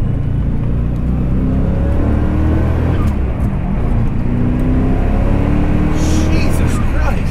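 A 1988 Callaway Twin Turbo C4 Corvette engine drones loudly under steady acceleration, heard from inside the car with constant road and wind roar.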